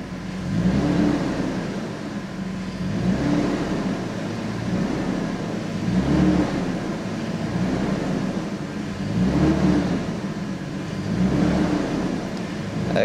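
A BMW 530i E39 engine held at low revs, about 1,300 to 1,500 RPM, with a steady idle-like drone that swells and eases in slow, even cycles and no voices.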